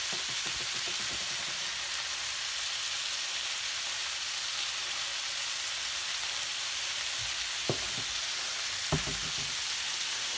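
Shredded hashbrowns sizzle steadily in a hot pan, a continuous close frying hiss with a couple of brief clicks near the end and no talking.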